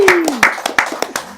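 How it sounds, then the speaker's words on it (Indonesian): Studio audience clapping on a talk show, about seven sharp, distinct claps in a quick loose rhythm, heard close and loud, with a voice overlapping at the very start. "Boleh tepuk tangan."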